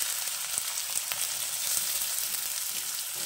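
Chopped onion dropped into hot oil in a pan sizzles loudly and evenly up close, with small crackles and occasional stirring taps, no talking.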